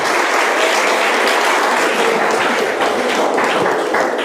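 Loud, dense applause from a gathering at an Islamic religious study session, sustained and even across the whole stretch with no talking.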